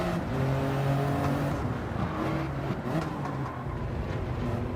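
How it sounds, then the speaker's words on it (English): Race cars in Gran Turismo 7 roar through a lap, engines whining and shifting pitch as a rival pulls up alongside, a continuous layered drone of nearby motors with no voices. "As you can see, one pulls up alongside us there."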